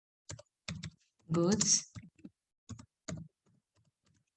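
Keys clack on a computer keyboard while narration text is typed into accounting software, sparse separate taps and a short cluster of quick strokes, with a brief spoken word in between.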